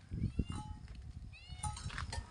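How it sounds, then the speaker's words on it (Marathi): Cats meow faintly from below outside a house, with a few short rising and falling calls overlapping over a couple of seconds against quiet background noise. "बघ तिथं खाली मांजरांचं कसं चाललंय"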